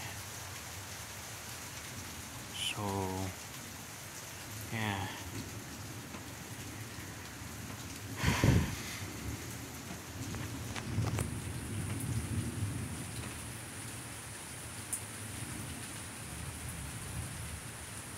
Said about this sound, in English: And it's just now starting to rain.